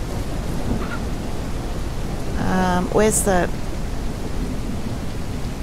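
Steady rain hisses throughout a Ranch Simulator storm, with low rumbling thunder underneath, while a person speaks briefly midway over the weather.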